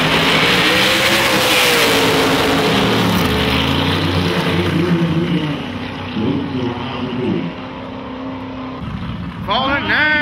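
Nitrous small-block drag race cars racing down the strip at a track: a loud, roaring engine drone that fades into the distance, with an announcer talking over it.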